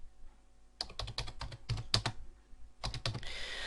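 Typing on a computer keyboard, close and quiet, in quick bursts of clicking keystrokes separated by short pauses, with no one talking.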